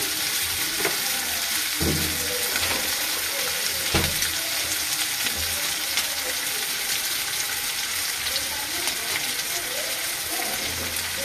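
Shrimp and flattened rice stir-frying in hot oil with green chillies, a steady close sizzle with repeated scraping and tapping as a spatula breaks up the shrimp in the pan.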